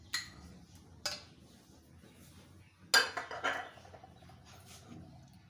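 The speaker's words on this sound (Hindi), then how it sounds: "अच्छे से चम्मच के साथ दही निकाल लेंगे।" A spoon scraping and clinking against a bowl while scooping yogurt for chicken biryani, a few close sharp taps spaced about a second apart with soft scraping between them.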